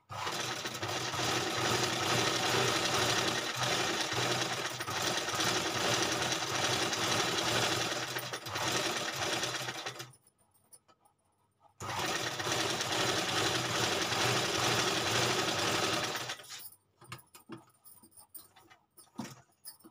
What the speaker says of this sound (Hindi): देखिए मैंने सिलाई लगा ली।